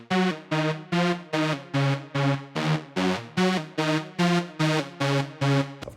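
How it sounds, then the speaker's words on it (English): A Serum software synth with reverb plays a guitar-like melody for a techno edit, chopped by a trance gate into steady, evenly spaced pulses, loud and close, with no talking. "So I matched the guitar melody and then I put it into a serum with a respace."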